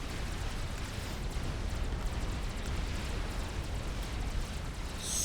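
Artillery barrages rumbling in Supreme Commander, a continuous heavy roar of distant explosions blending into a dense low wash, no voices.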